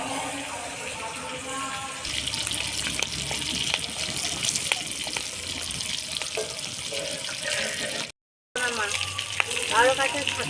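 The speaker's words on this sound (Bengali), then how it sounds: "ডিমগুলোকে লাল লাল করে ভেজে নেব" Eggs frying in hot oil for an egg curry give off a steady, hissing sizzle that runs throughout, briefly cutting out before resuming, with a voice speaking now and then over it.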